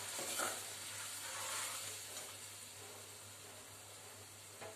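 Chili, garlic and fresh coconut paste sautéing in oil, a soft continuous sizzle with faint stirring, fairly quiet and close, swelling slightly at moments with a low steady hum underneath.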